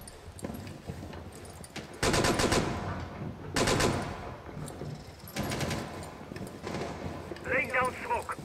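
Gunfire in the tactical shooter Rainbow Six Siege, on the Villa map: loud bursts of automatic fire in three clusters, with quieter shots between them, all mixed with players talking over voice chat.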